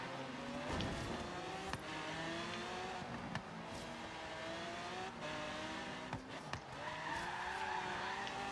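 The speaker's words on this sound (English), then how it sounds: "there we go drifting again." Cars drifting with squealing tires in Forza Horizon 3, Lamborghinis sliding as engines rev steadily throughout, with sharp skid bursts and sustained tonal engine whine close up.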